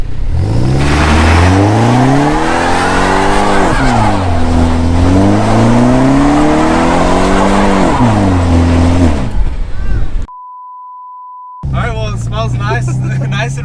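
A stage 2 tuned Mercedes C300 revs hard and loud with rising and falling engine harmonics, likely spinning its tires, before a brief silent gap with a steady test tone, then more engine noise.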